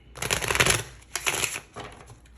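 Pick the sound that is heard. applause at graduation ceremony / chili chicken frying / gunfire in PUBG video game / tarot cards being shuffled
tarot cards being shuffled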